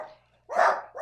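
A dog barks indoors, one short loud bark close by after a faint earlier yelp, with the start of another bark cut off at the end.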